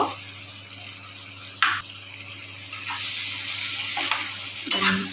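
Fried prawns being stirred into a cooking pan, with a steady sizzle throughout and a few sharp scraping strokes of the spoon against the metal, close and fairly loud.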